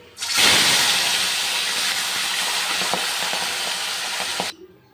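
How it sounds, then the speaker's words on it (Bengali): Fish dropped into hot oil in a wok bursts into a loud, steady sizzling hiss that runs for about four seconds with small crackles, then cuts off abruptly. "কড়াইতে তেল বসিয়ে দিয়েছি তেলটা গরম হয়ে গেছে মাছগুলো একটু ভেজে নিই"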